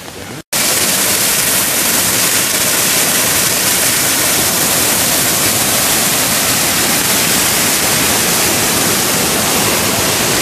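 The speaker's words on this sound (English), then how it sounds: "Codornices waterfall." Codornices Creek waterfall in Codornices Park running high after two or three days of rain, a loud, steady broadband roar of rushing water close by, unbroken after a brief opening moment.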